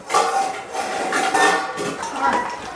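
Metal lid settling onto a pot of dum biryani on a stove, with a few clattering clinks and scrapes of cookware, near and fairly loud, no talk.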